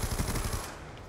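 Short, loud burst of rapid automatic fire from an LSAT light machine gun in a shooter game, a quick rattling string of shots that cuts off after under a second.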